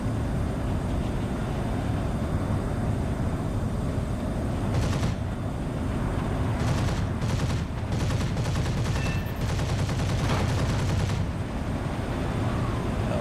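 Turret fire in War Thunder heard from a rocket fighter aircraft, with rapid bursts of automatic gunfire crackling over a steady engine drone, several volleys coming in clusters.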